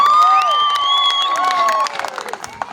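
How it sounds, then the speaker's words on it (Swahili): A church congregation claps and cheers for Jesus in loud, sustained applause, with crowd voices mixed in; the clapping thins out toward the end. "Chapia Yesu makofi mengi."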